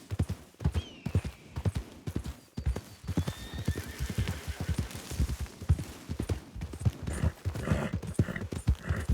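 Rapid hoof clip-clops from a horse throughout, with occasional whinnies and a voice in the background over outdoor ambience, in the video game Red Dead Redemption 2.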